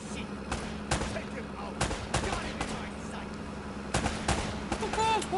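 Gunfire crackles through an Uncharted firefight, a scatter of sharp shots coming in uneven bursts over a steady background hum, with faint voices mixed in.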